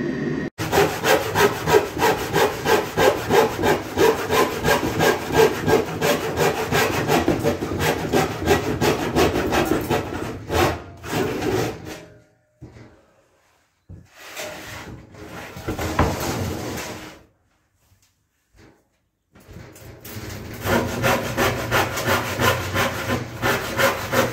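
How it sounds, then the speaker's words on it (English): Handsaw cutting plywood for a shelf in a cabin workshop, with fast regular back-and-forth strokes close by, a few pauses and brief silences midway, then the sawing resumes. "I couldn't resist cutting some plywood to make a shelf"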